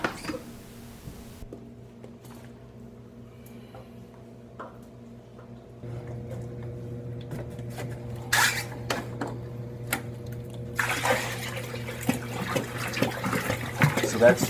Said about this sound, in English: So that's 30 gallons of purified fresh water going into the tank